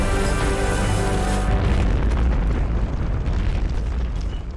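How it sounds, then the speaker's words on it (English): A gigantic explosion destroys a bridge packed with troops in the 1813 Napoleonic Battle of the Nations, a sustained loud roaring blast with rumbling debris that fades slightly toward the end. "The bridge was destroyed in a gigantic explosion"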